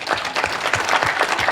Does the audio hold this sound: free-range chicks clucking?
no